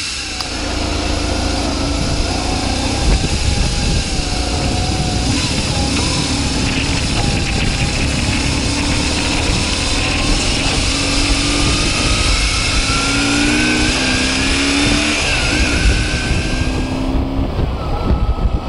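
A motorcycle pulls away slowly and rolls along at low speed, its engine droning steadily and loud throughout with rising and falling tones, with wind buffeting the microphone.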